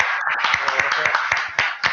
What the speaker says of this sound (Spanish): este aplauso para vosotros